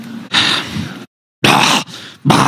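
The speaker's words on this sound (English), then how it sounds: "Somebody's just like breathing into the microphone already." Heavy, breathy huffs into a microphone at a convention podium, loud and close, several long gusty breaths broken by a short silence, with no talk.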